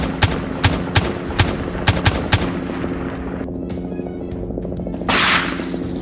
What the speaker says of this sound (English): The first shot dropped one instantly.